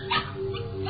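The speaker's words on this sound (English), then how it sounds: "Oh, a dog." A dog whimpers and yips in an audio drama, one short whining cry close up, brief and alone with no talk.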